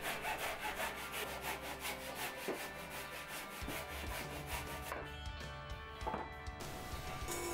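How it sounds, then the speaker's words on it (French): Steady back-and-forth strokes of a Japanese hand saw cutting through timber, close and rhythmic, with a brief pause midway before the sawing resumes. "Je tronçonne déjà toutes mes longueurs à la scie japonaise."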